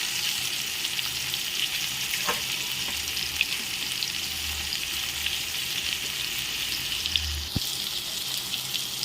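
Potato masala for samosa filling is tipped into a hot pan and stirred, a steady close sizzle of frying with scraping of the spoon running throughout, a few sharper clinks and thumps breaking through.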